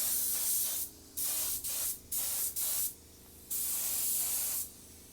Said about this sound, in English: So we're going to come in with a real light tack coat